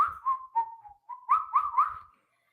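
A person whistles a simple melodic tune in several short, bright phrases with brief pauses, close and clear, with no talking.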